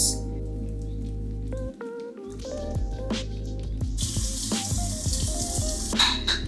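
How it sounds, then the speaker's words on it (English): Tap water runs steadily into a bathroom sink during face washing, with splashing and dripping close by and a brighter hissing spray toward the end. "I am going to wash the bottom half of my face."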